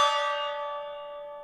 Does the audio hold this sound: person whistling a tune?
no